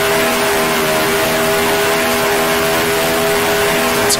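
A loud 1966 Formula One car engine drones steadily in Grand Prix Legends, a continuous high-revving buzz heard close throughout with no clear rise and fall of a car passing by.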